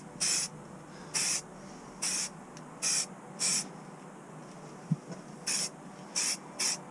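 An airbrush lays primer on a Tamiya Scania RC truck chassis in short hissing bursts, about eight brief sprays spaced with pauses, close and fairly soft, with no talking.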